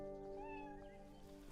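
A small kitten lets out a faint, drawn-out meow with a rising and falling pitch, quiet and alone against soft outdoor background noise.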